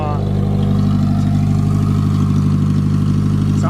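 Close-up idle of a car engine with an exhaust leak, a loud, throaty, rhythmic burble that pulses steadily throughout, with someone talking faintly over it.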